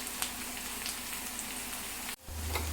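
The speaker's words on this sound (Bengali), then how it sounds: "এদিকে পেঁয়াজগুলো লাল করে ভাজা হতে থাকুক" Onions fry in a pan until reddish for a home-style pointed gourd bharta, a steady fine sizzle like light rain, close and even, cut briefly near the end by a soft clunk, with no talking.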